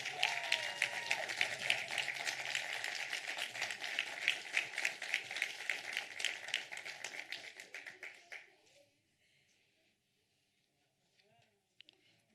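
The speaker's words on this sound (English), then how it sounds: "give it a round of applause" An award ceremony audience at Falling Walls Lab Pretoria 2022 claps for the winner, a full burst of many hands that thins into scattered claps and stops near nine seconds, leaving a quiet room with a couple of faint taps.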